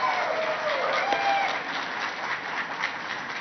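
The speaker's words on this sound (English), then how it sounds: "join me in raising a very warm round of applause" Audience applause welcoming a guest onto the stage at the India Today Mumbai Conclave 2024, a steady wash of clapping at moderate level lasting a few seconds.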